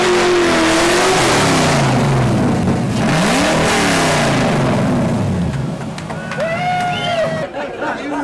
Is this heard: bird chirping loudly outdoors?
no